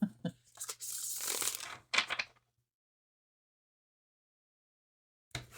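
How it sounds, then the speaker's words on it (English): Lord of the Rings tarot cards are riffled and bridged in a few quick close bursts of papery flutter and snapping, separated by silence, with a final short burst at the end. "they shuffle fine, they bridge fine"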